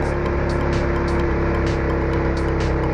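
A samlor's engine strains uphill in second gear with a loud, steady droning labor and rhythmic mechanical pulsing, heard close from inside the vehicle.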